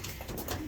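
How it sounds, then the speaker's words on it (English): Racing pigeons cooing briefly inside a loft, a soft low burbling call heard close and alone. "We've got a few birds come back in"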